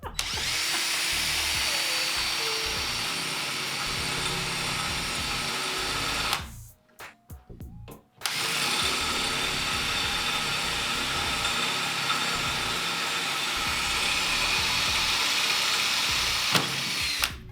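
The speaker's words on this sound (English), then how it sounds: "Just drill straight through." Power drill boring through metal on a Willys restoration, a steady loud whining grind that runs continuously, stops for a moment of scattered clicks, then resumes at full strength.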